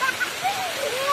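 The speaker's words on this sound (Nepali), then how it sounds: "यो पानीको झरना यस्तो" A waterfall on an outing with children in Arjai, Gulmi, Nepal, heard as a steady rush of falling water with splashing, with voices over it through the whole short moment.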